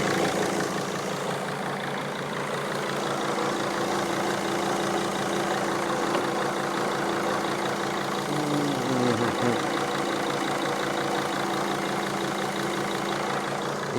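Mercedes Sprinter CDI turbo diesel with a boost leak, running steadily with a low diesel clatter and hissing rush, a brief pitch drop near the middle, no talk.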